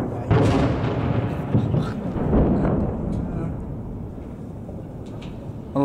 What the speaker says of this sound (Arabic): قصف مدفعياني يستهدف حي زوبر بالعاصمة دمشق